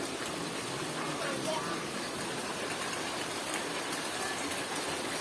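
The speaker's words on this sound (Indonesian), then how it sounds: "Hujan guys, kita berteduh dulu ya." Steady rain pours down outdoors near the Sendang Panguripan spring on Mount Lawu, a constant dense hiss with no breaks.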